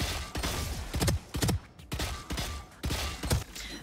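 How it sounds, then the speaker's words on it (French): Three-round burst gunfire in a first-person shooter game during aim practice: tight clusters of sharp shots repeat steadily, each burst quickly followed by the next, loud and close, with mechanical clicks between them. "ce que vous allez essayer de faire, c'est de tirer des 3 balles par 3 balles"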